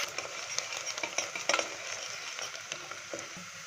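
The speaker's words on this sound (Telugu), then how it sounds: "ఇదిగో బిర్యానీ మసాలా, ఉల్లిపాయలు వేసుకుంటున్నాను." Onions with biryani masala sizzle and fry in hot oil for a mutton curry, a steady close crackle broken by the scrape and clink of a spoon stirring against the pan.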